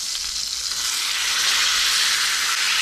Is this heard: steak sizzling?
yes